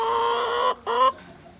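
A broody hen and other chickens cluck in a farm coop, two close drawn-out harmonic calls separated by a short pause, then fading to quiet.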